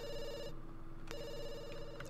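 A telephone rings in the video game The Sims 2, two quick electronic ring bursts separated by a short pause, fairly quiet with no voices.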